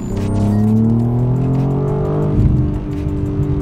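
A steady, artificial car engine drone played through the car's interior speakers rises in pitch as if accelerating, heard close and loud from inside the vehicle, no talk.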